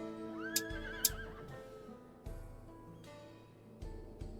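A horse whinnies loudly near the start in the video game Final Fantasy XIV, followed by a couple of sharp clicks and heavy thuds, with quieter hoofbeat-like knocks later.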